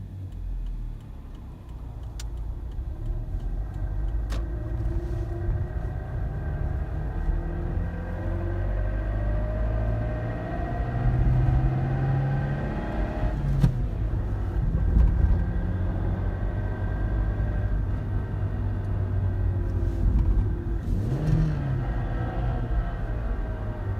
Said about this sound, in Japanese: クラッチを離すとガラガラガラガラと。